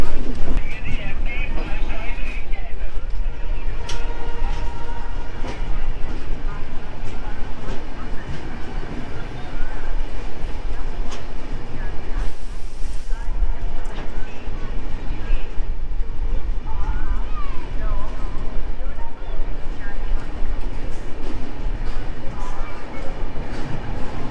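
The Coromandel Express rolls along the rails between Kolkata and Chennai, a loud, continuous rumble and rattle of wheels and carriage heard from inside, with a voice talking over it.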